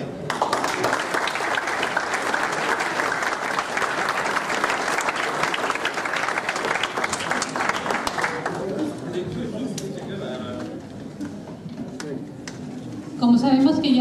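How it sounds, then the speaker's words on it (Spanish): An audience applauds at an anniversary talk event: dense clapping for about eight seconds, then it drops away to scattered claps and murmuring chatter, with a brief louder burst near the end. "Agradecemos también sus aplausos."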